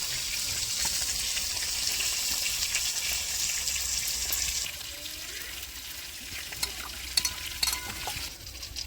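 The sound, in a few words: frying fish in oil, sizzling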